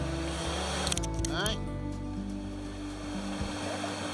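A small waterfall spills into a creek at a gold mine in New South Wales, a steady close rushing wash of water that runs throughout, with brief clatter near the start.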